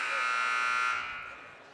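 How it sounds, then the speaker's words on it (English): A loud, steady electronic buzzer sounds in a gym during a girls' high school basketball game, holding for about a second before fading out. "Buzzer sounds with just under 2 minutes left to go first quarter"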